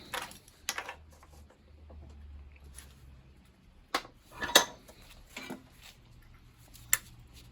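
Sharp metallic strikes of a small four-inch cold chisel against a cheap shackle padlock rivet clamped in a vise, several separate clanks spaced irregularly with quiet gaps and a low hum between.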